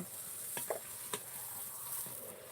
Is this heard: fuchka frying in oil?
yes